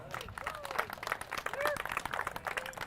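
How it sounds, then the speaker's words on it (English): An outdoor crowd at a snowboard and ski line release event keeps up steady, dense clapping, with cheering and talk mixed in throughout. "Keep clapping"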